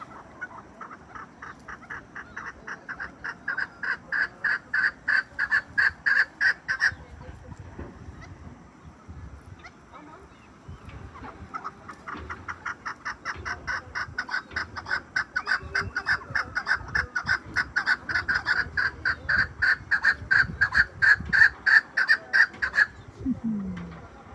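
Partridges recently moved into a new coop give loud, rapid, rhythmic chuckling calls in long repeated bursts, close and building in intensity, with a brief pause midway.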